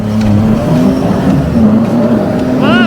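A small 8-horsepower engine strains under added throttle in winter, a loud steady drone with harmonic bands rising and falling slightly, joined near the end by a rising whine.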